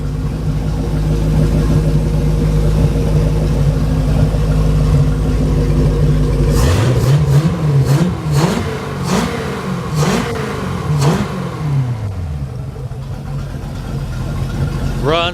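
A 5.0 Mercruiser marine V8 runs on a pallet with its cooling, fuel pump and power steering pump attached, idling roughly and then revved in several sharp bursts before settling back, loud and close.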